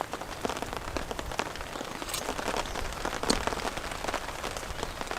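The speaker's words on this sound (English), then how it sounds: "Nice shots of the rain hitting the water." Rain falls onto pond water in a storm, producing a constant fizzing hiss peppered with crisp droplet splashes that swell slightly midway, heard up close with no talking.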